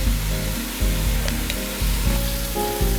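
Small shallots and sliced onions, with a pinch of salt, sauté in a pan, giving a steady sizzle with pulses of stirring every half second or so.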